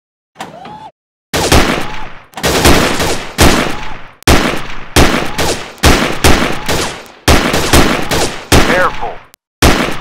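Repeated bursts of STG44 assault rifle fire in a VR shooting game, loud and close, rapid automatic volleys separated by short pauses, with a brief voice speaking between shots.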